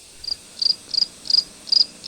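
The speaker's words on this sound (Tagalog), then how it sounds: "At dito rin matatagpuan ang bahay ng mga tawag dyan, kuliglig." Crickets chirp in short, evenly spaced trills, six bright bursts close by against an otherwise quiet background.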